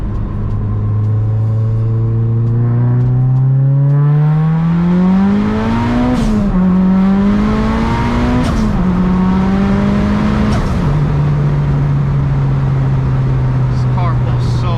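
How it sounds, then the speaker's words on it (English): A Mitsubishi Evo 9 pulls hard in second gear, its engine note climbing in pitch with brief dips at shifts, heard loud and close from inside the cabin. "We're gonna do a little quick second gear pull."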